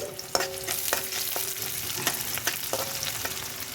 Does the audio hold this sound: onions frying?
yes